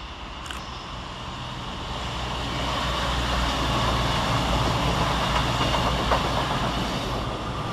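A CrossCountry train, unit 221136, runs on the far side at Cheadle Hulme station, its rumble and wheel noise swelling from moderate to loud and staying steady, with no voices.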